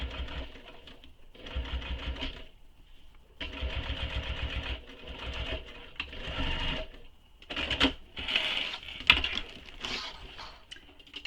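A sewing machine stitches a tote bag in short bursts of rapid, buzzy mechanical whirring separated by brief pauses, close by and fairly quiet, with faint clicks and rustling of fabric.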